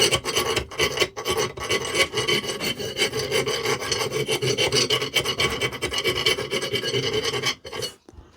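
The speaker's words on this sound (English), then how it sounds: "I need a round file as well, because I just want to deburr the inside" Round file rasping against the inside of an iron part on a Petter M engine, in rapid back-and-forth strokes with brief pauses, loud and close.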